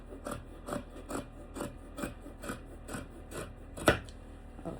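Scissors cut through fabric for a striped kaftan dress, a steady run of rhythmic rasping snips, close and moderately quiet, with one sharper crisp cut near the end.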